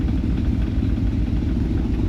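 A car engine idles at about 950 rpm, a loud, close and steady low rumble with a faint mechanical clatter running evenly throughout, no talk.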